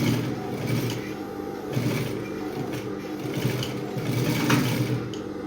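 A sewing machine stitches a corset seam in steady, continuous running bursts, close and fairly loud, with brief changes in pace as it skips over boning.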